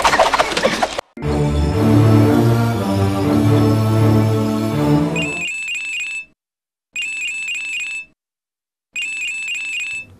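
A mobile phone ringtone plays loud and close: a brief noisy burst, then a sustained melodic tune, followed by three repeated electronic beeping rings separated by short silences.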